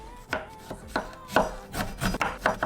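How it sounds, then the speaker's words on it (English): A knife chops a tomato on a board for a vegan meal, giving about six soft, close cuts at an uneven, unhurried pace over a quiet room. "So I'm gonna chop up that tomato now."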